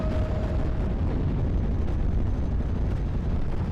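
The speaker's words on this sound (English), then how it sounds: "now the M7's come along with its 15 HE cannon to finish off the Ersatztruppen" HE cannon fire from M7 self-propelled guns in the World War II strategy game Steel Division: Normandy 44 makes a dense, continuous roar of rumbling explosions, loud and sustained throughout.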